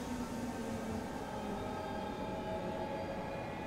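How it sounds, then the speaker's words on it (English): A train rolls steadily into a station in Final Fantasy XV, a faint continuous rumble of carriages on the rails with a low mechanical hum and whine, even in level and free of voices. "the train is now arriving at Cartonico something station"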